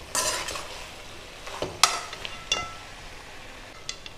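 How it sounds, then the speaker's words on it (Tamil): Spice masala sautéing in oil for an eggplant and potato gravy: a soft sizzle broken by several sharp stirring scrapes and clinks of a utensil against the pan, close and fairly quiet. "ஒரு 2 நிமிஷம் எண்ணெயிலேயே நல்லா வதங்கட்டும்."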